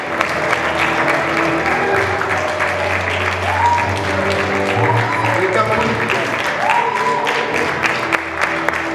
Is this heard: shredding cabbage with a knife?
no